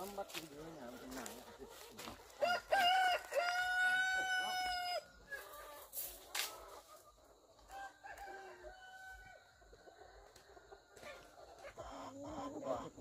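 Chickens on a farm being caught for sale: a rooster crows loudly at close range and hens cluck around it, while people talk throughout.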